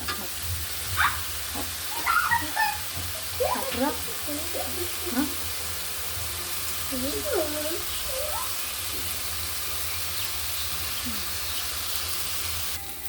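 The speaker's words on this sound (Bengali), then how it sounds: "এটা সুন্দর করে ভাজি হয়ে গেলে তারপরে আমি অন্যান্য মশলা দেবো।" Spice paste frying in a pan gives a steady close sizzle throughout, with someone speaking over it in the first half before the frying continues alone.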